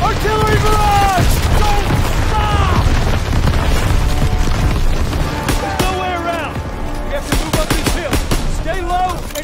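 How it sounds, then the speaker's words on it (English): Artillery barrage in Call of Duty: WWII on the Hill 493 mission, heavy booming explosions mixed with gunfire and whistling shells, loud and dense, with shouting voices over the battle. "Artillery barrage!"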